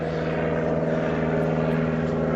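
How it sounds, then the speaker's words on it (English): An old propeller plane flies overhead with a steady, loud buzzing engine drone and a thick layer of harmonics, with no voices. "Yeah, it's definitely older plane."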